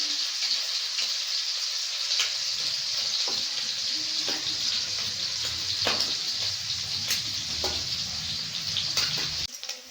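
Prawns frying in oil in a pan while being turned over one by one, a steady bright sizzle throughout with scattered spits and pops, the frying close and continuous for the whole stretch.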